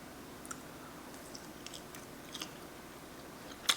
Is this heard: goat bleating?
no